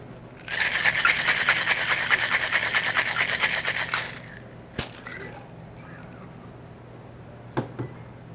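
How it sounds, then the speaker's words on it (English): A cocktail shaker holding a Tahoe Blue vodka cocktail is shaken hard. It makes a dense, rhythmic rattling for about three and a half seconds, then stops, followed by quiet room tone and a couple of faint knocks. "So you give it a nice hard shake."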